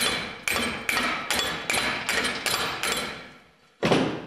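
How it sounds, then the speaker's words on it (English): Roughly eight evenly spaced metallic hammer taps on a vehicle differential's companion flange during pinion reassembly, close and clear, with a short pause before the last strike. "gently tap on the companion flange"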